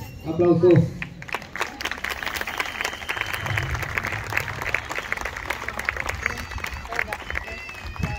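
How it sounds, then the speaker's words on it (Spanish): Audience applause at an award ceremony for school marching bands in Coinco, a dense, steady wash of clapping that swells in after a brief voice at the start and carries on to the end. "Aplausos."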